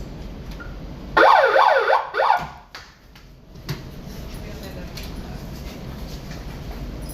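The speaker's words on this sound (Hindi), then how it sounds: "और सायरन भी है" A loud electronic ship siren on a ship's bridge wails in a quick rising and falling pattern for about a second, then cuts off, leaving a background hum.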